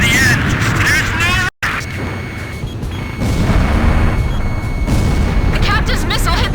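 Missile explosions in Ace Combat 5 rumble as heavy, sustained booms through dense combat noise, with a brief dropout partway and voices partly audible in the mix.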